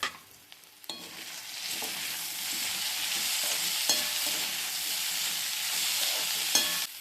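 Shredded cabbage, dill, sorrel and coriander stirred in a hot pan, a continuous frying hiss broken by sharp spatula clicks against the pan, close up with no voices.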